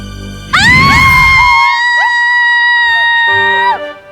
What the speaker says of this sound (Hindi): क्यों चिल्ला रही हैं आप?